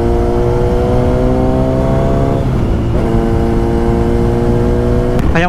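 A motorcycle engine hums loud and close while riding, its steady drone shifting pitch as it changes speed, with rushing wind throughout and no talk.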